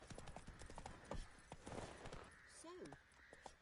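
Roach the horse gallops in The Witcher 3, hooves clopping in a fast, even rhythm, with speech and a short game sound effect heard around the footfalls.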